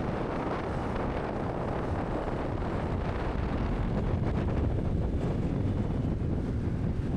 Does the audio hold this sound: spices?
no